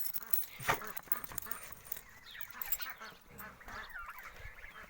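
Several turkeys honk and gobble at a distance in a large coop, a busy, overlapping chorus of poultry calls over a noisy background.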